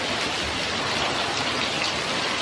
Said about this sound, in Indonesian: hujan angin yang disertai petir ini senantiasa membuat kekhawatiran